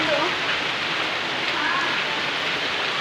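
Steady, dense rain hisses and patters on surfaces, a continuous close wash of sound with no breaks.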